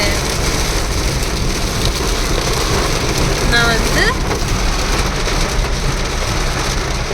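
Heavy rain pours steadily as a dense, unbroken hiss that stays loud throughout, while a voice briefly speaks over it.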